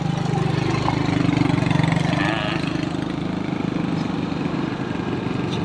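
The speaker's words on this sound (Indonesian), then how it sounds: "ada motor di belakang." A motorcycle engine runs just behind on a narrow forest footpath near rice fields, a steady, close, mid-pitched drone that holds throughout with only slight swells.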